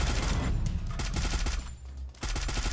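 Gunfire in the mobile battle royale game Free Fire, a dense fusillade of rapid shots that stays loud and close through most of the stretch, easing briefly near the end before the firing resumes.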